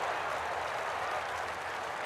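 A golf gallery at the WM Phoenix Open in EA Sports PGA Tour lets out a sustained wash of cheering and clapping, a dense, moderately distant roar held evenly for a couple of seconds.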